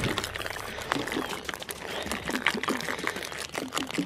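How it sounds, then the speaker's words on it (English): Cleaning solution being poured onto an area rug meant for a garage floor, a soft uneven trickling and splashing close by with small clicks and rustles, no talk over it. "I'm just pouring it all there."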